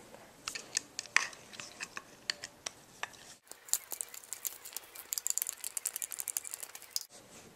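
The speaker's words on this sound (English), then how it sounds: "Now just unscrew." Small screws being backed out of an M4-style airsoft gun's plastic body, a run of light clicks, ticks and scrapes, close and fairly quiet, with a short pause partway through.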